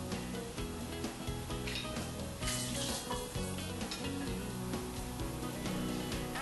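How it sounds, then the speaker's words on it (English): A pot of mussel broth at a vigorous boil, giving steady bubbling and sizzling throughout, loud and close, with no one talking. "Nice good boil going."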